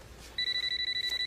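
A telephone ringing indoors with a rapid electronic warble, a steady burst of pulsing high tones starting after a short quiet moment, close and clear with no talk over it.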